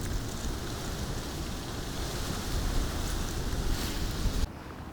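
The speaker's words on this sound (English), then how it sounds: "Wow, that's a lot of wind." Strong wind blusters outdoors around a bush with brown and orange leaves, a steady broadband roar buffeting the microphone throughout before dropping away abruptly near the end.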